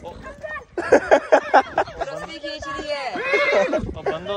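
A horse neighs close by during a ride through a village, giving a loud, pulsing whinny with several quick bursts and then a longer drawn-out cry, while people talk around it.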